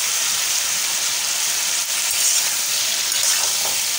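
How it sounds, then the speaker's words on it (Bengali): Ash gourd pieces with green chillies fry in hot oil in a pan, giving a steady, even sizzle that hisses close up and alone for the whole stretch. "দেখো অল্প ভাজা ভাজা হয়েছে।"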